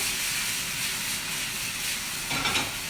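Hot risotto pan with mushrooms and onions sizzling as wine splashes in, a steady broad hiss of steam and frying filling the whole moment, with a brief louder burst of bubbling near the end.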